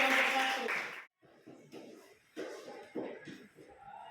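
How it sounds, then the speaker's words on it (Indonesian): A classroom of students applauds a presenting group, a burst of clapping followed by scattered, uneven claps and shuffling that fade in and out, with some voices mixed in. "Mari kita berikan aplaus untuk kelompok 1."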